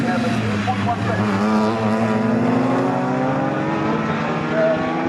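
BMW race cars at full throttle around the Snetterton circuit, a continuous loud engine drone with shifting pitch and no breaks, several cars blending together under a steady wash of noise.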